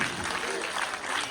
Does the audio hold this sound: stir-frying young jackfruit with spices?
no